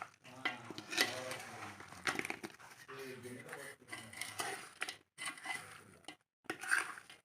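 Chicken pickle being stirred by hand with lemon juice and salt in a metal pot, soft wet squelching and scraping in irregular bursts, close and quiet, with a person talking intermittently over it.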